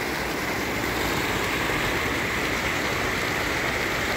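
River water rushes steadily over a dam in the rural backcountry of Bahia, Brazil, a dense unbroken roar that stays loud and even from start to finish with no talking.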